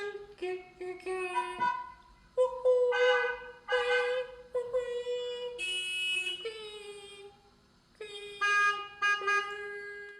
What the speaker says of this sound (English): I'm still doing this sometimes whenever a car honks outside